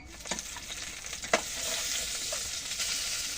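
Fish coated with salt and turmeric frying in hot oil, a continuous quiet sizzle punctuated by a few sharp pops and spatters, close and without speech.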